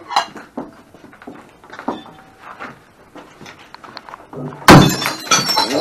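Glass shatters with a sudden loud crash and scattering shards in a smash room, following a stretch of quieter thuds and movement, with the bright debris ringing out afterward.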